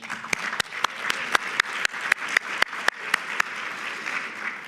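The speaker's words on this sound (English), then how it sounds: "So an applause to all of you for all your collaboration." Attendees of a workforce summit plenary session in Illinois applaud, a steady wash of many hands clapping with sharper individual claps standing out at irregular intervals, moderately loud and without talking.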